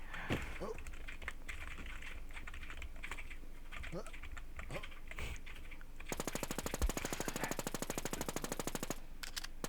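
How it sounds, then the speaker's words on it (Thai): Rapid computer keyboard clicks under gunfire during an online shooter game, scattered taps then a fast regular burst of clattering keystrokes in the second half, with a voice talking briefly. "กูได้ยินเสียงคีย์บอร์ดมึง"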